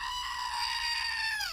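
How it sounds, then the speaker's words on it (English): A screaming goat toy lets out one loud, sustained, shrill scream lasting about a second and a half, close by, before it cuts off abruptly. "Say hello to our friend, the screaming goat."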